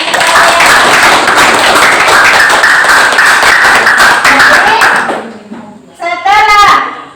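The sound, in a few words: children clapping hands in a classroom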